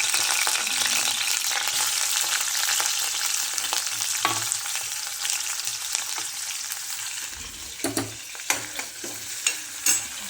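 Chopped onion crackles and sizzles in hot oil with curry leaves in a pot, a steady close fry broken by a few sharper spatula scrapes and stirs toward the end, with no talking.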